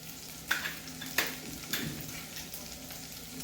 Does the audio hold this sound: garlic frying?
yes